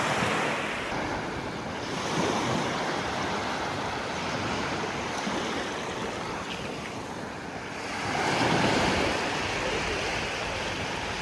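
Beach waves roll and wash continuously onto the shore on Koh Samui, a steady broadband surf roar with light wind buffeting, swelling louder near the end.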